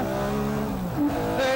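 A 410-horsepower race car accelerates around a sprint track, its engine droning in a steady harmonic whine that shifts pitch midway as it changes gear, loud and continuous.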